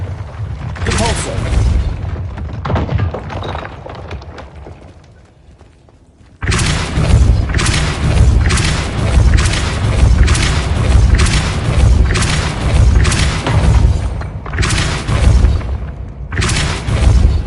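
The Depulso spell cast in a Hogwarts video game, heard as heavy booming blasts that hit hard after a quieter opening and then repeat in a steady series of loud thumps.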